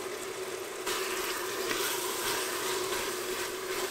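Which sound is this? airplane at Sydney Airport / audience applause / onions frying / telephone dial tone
onions frying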